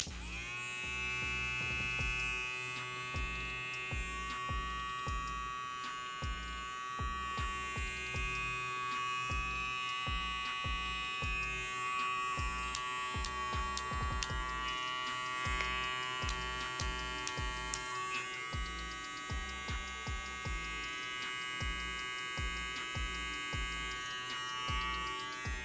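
A Kemei 1856 cordless hair clipper runs with a steady, even electric whir and hum that holds for the whole stretch, fairly loud and close, with no talking over it.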